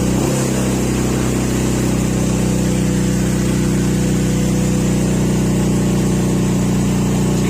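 A car engine revs hard at high RPM with a throttle body fault, a loud, steady, close roar that holds constant throughout with no talk.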